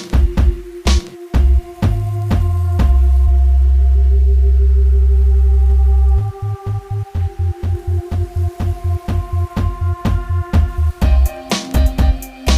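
Filtered desert wind texture under a looping beat, with a long sustained bass note before bass and two kick drums fade in for a steady pulsing groove, loud and close.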